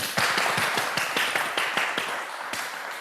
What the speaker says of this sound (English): Can I please have a big round of applause for him?